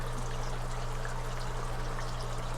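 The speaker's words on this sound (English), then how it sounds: "The water flowing here." Water streams steadily through a 3D-printed venturi in an aquaponics setup, a soft continuous pouring and trickling hiss without pause.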